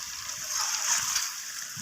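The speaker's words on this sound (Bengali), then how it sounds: "এখানে জল দিয়ে দিতে হবে" Water poured into a chicken and green pea curry in a pan, a steady close splashing stream that rises slightly in the middle and runs for under two seconds without talk.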